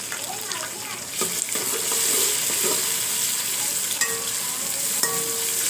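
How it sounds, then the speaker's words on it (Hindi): Tomatoes, green chillies and ginger-garlic paste hit a pan of browned onions for a Pakistani beef pulao, hissing and sizzling steadily while a spoon stirs and scrapes with occasional clinks. "अब इसमें मैं ऐड कर रही हूँ टमाटर और सब्ज़ मिर्चें, अदरक और लहसुन का पेस्ट"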